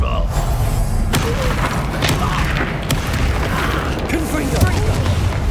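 Confringo fire spell blasts and other combat spells in Hogwarts Legacy, a dense string of booms and thuds layered over continuous battle noise, while voices shout spell names throughout.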